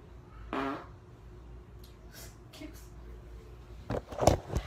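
A woman's fart, a short low blurt near the start, followed by quiet room noise, a few faint knocks, and a louder burst of sharp sounds near the end.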